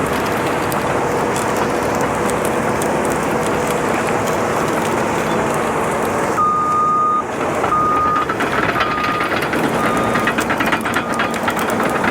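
A landfill compactor works a side slope amid busy site operations, a steady loud mechanical roar with clanking and grinding throughout, and a truck's reversing beeps sounding in regular pulses over the din in the second half.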